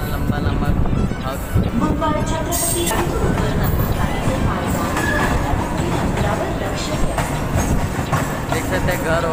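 Mumbai non-AC local train running on rails, a dense continuous rumble and rattle filling the whole span at steady loudness, with faint voices mixed in.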